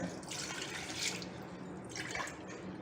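Two glasses of water pour and splash into a cooking pot in two short bursts, fairly close and moderately loud.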